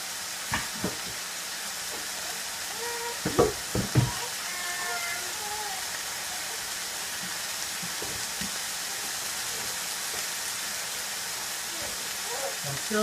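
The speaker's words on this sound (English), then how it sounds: "I'm just going to put the cauliflower and the broccoli into the pan, put it on here to get it to a small, kind of getting it warm." Cauliflower and broccoli warm in a pan for blanching, giving off a soft, continuous hiss and sizzle with a few brief knocks early on, all fairly quiet.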